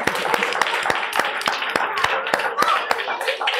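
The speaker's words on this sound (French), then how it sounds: "On peut l'applaudir bien fort." Audience applauding at an outdoor film screening, quick bursts of clapping heard under someone talking over a microphone.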